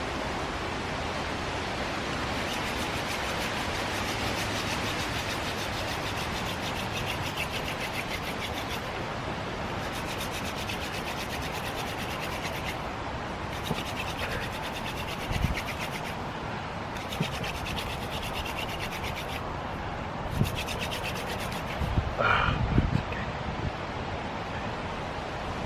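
A hand drill or bow drill spins against wood, making a steady, noisy rasping rub that runs on through the clip with a few short pauses and scattered knocks near the end; no voices.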